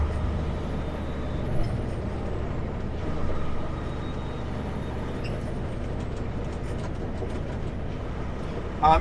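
A truck drives along a multi-lane highway approaching Jasper near Mount Robson Provincial Park, producing a steady, close engine and road rumble with faint tonal whines throughout.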